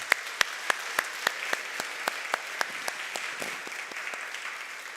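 Scattered hand claps start strong and sharp, then blend into steady applause from a church congregation during a Sunday service, fading slightly.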